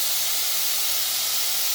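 Sliced onions sautéing with salt in a pan for a coconut-milk egg curry give off a loud, steady, close sizzle with no pauses and no voices.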